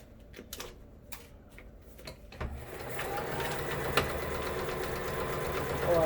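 A sewing machine stitching a reusable fabric face mask with a pipe cleaner insert, starting with a few separate clicks and then settling into a steady, fast mechanical whir that slowly grows louder, heard up close.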